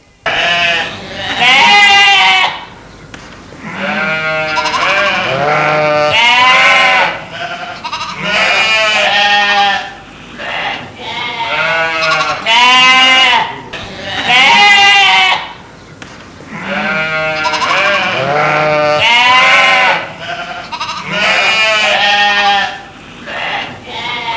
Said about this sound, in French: les pré-salés sont des moutons qui mangent de l'herbe salée, en général autour du Mont-Saint-Michel